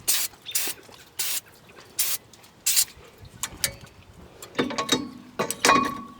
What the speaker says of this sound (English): Clean your rotors with some brake cleaner.